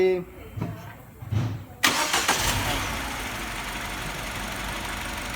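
A Mini Cooper engine being cranked and started during an electrical fault diagnosis: a brief cranking burst just before the two-second mark catches into a steady, fairly loud running engine, with faint speech beforehand.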